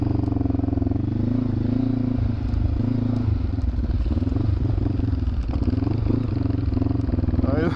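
A motorcycle engine running close by on a long touring ride, a steady, loud throbbing rumble with light clatter, continuous with slight changes in pitch, no talk over it.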